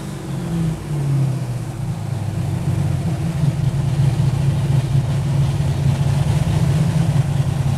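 A car engine idles steadily through a cylinder power balance test, a continuous low mechanical hum that holds even and fairly loud with a slight pitch dip near the start, no voices.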